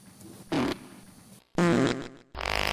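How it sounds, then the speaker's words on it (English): Three separate bursts of flatulence-like sound, a short blast, a longer rippling one, then a buzzing one, each fairly loud and close with brief gaps between. "Dog fart."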